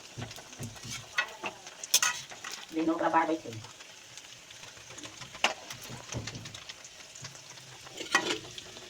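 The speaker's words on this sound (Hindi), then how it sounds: "ये बहुत टाइम टेकिंग है फ्राई करने वाला प्रोसेस" Momos frying in mustard oil in a home kitchen: a steady low sizzle with a swell of bubbling near the middle and occasional utensil clicks and knocks, with people talking over it.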